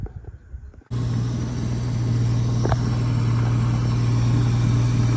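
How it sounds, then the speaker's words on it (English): A car engine starts up and settles into a steady, low idle, a constant hum that runs close and unbroken after a brief noisy moment. "All right, that's her idling"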